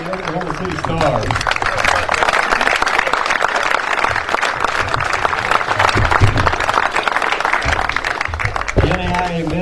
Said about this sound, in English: let's give Oklahoma City another round of applause and all of our golfers another round of applause